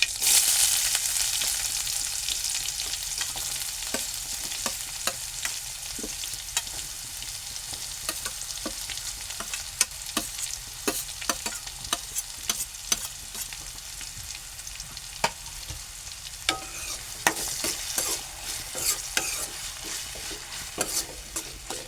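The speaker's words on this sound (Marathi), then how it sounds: "बारीक चिरलेला टोमॅटो आणि बारीक चिरलेला कांदा हे आपण आता कढाईमध्ये टाकू फोडणीला" Chopped onion and tomato sizzle and crackle in a hot wok while a utensil stirs and scrapes repeatedly, with irregular clinks throughout.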